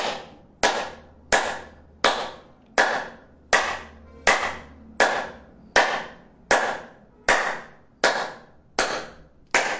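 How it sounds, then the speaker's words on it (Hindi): A group claps in unison during a yoga-style health exercise session, giving about fourteen sharp, loud, evenly spaced claps at a slow, steady pace with no talk. "तालियां बजाएं,"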